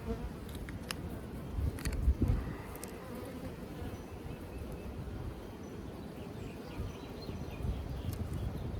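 Dense, steady buzzing of many honeybees at an open Layens hive during an inspection, the swarm hum filling the whole stretch at close range with small bursts of louder wingbeats near the start and no talk.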